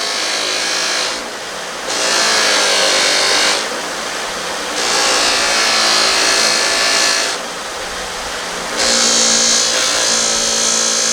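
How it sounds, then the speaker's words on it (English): A 1 horsepower electric buffer runs with a steady broadband whirr that swells louder in regular surges every couple of seconds, as if work is pressed against the wheel and eased off, with no voices. "The 1 horsepower is plenty of horsepower to do your buffing."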